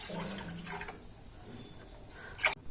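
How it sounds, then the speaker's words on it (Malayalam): Water pours into a pot of rice being cooked for a meat rice dish, a soft running splash in bursts, with a brief louder splash near the end. "ബാക്കി 5 കപ്പ് വെള്ളം ഈ സമയത്തൊന്ന് ചേർത്ത് കൊടുക്കാം."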